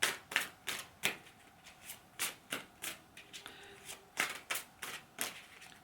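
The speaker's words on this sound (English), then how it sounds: "I'm finding it hard to even shuffle the blinking cards" Playing cards shuffled by hand in a quick series of crisp riffling bursts, close and fairly quiet, with short pauses between each shuffle.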